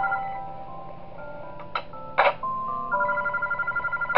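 Telephone ringing in the horror game Those Nights at Wario's 3: a trilling electronic ring with clear repeated tones, set among ticking and other game sounds, with no talking.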